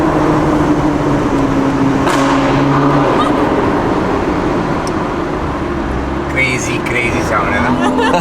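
A 2020-era Audi TT with a loud aftermarket exhaust throws sharp pops and crackles over a steady roar of engine and road noise as it drives, with someone talking throughout.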